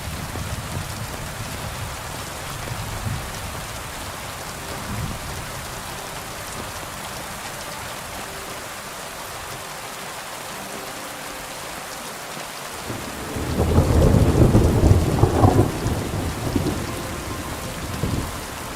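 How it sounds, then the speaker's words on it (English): A heavy thunderstorm in the Kingdom Come Deliverance 2 video game, with a steady roar of rain and a loud rumble of thunder swelling near the end. "Oh, that is a big storm."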